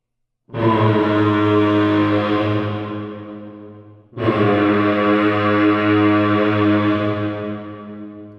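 Two long, buzzing droning tones from an electric kazoo swell in one after another, run through 100% wet reverb so they sound hollow and foghorn-like.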